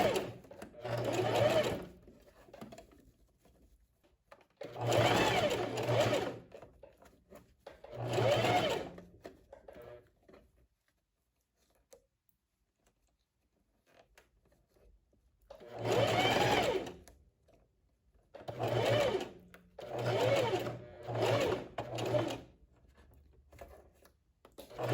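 A sewing machine runs a straight stitch on a lined tailored vest in repeated bursts of a few seconds each, separated by quiet pauses, loud and close with no talk.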